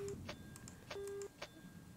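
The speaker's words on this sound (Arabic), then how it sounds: "تليفون" A telephone rings in the horror video game Kidnapped, with two short, faint electronic tone bursts about a second apart over soft ticking and background hiss.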